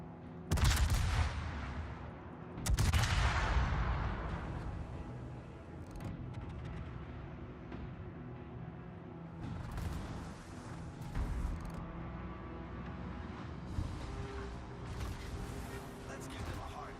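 Naval gunfire in World of Warships: two heavy, booming salvos close together, then a stretch of distant rumbling shots and mechanical noise, with talk running underneath.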